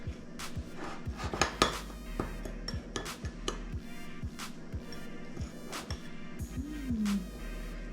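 Butter crumble topping for a lectin-free coffee cake is mixed in a bowl, giving a steady run of soft scraping and rubbing with light clinks of utensil against the bowl, close by, with a low background hum.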